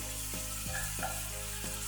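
Salmon pieces fry in a pan with soy sauce for a Chinese-style salmon fettuccine. A soft, even sizzle plays close by under a low hum, with a few regular stirring scrapes.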